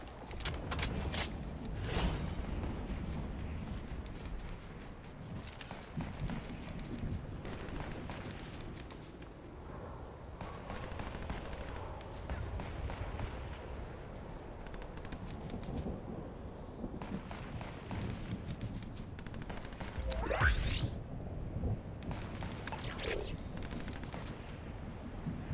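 Fortnite gunfire crackles in scattered bursts, with rapid volleys and sharper single shots spread across the stretch, fairly faint and mixed with other game noise.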